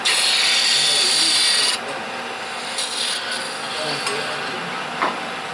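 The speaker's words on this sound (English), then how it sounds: "It's a scraper you're using. Drop nose scraper." Drop nose scraper cutting spinning wood on a lathe, a steady close rasping hiss that is loud at first, drops off sharply partway through and then continues more quietly with a few small bumps.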